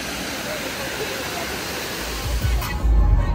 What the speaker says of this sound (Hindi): कॉर्बेट फॉल फाइनली आ चुके